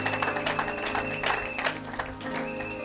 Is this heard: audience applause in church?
yes